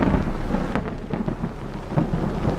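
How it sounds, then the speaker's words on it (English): Thunder rolling through a storm over a city alley, a loud, close, continuous rumble with heavy low roar and rain hiss, swelling in a few surges. "the thunder rolled and lightning flashed outside my window in the alley again"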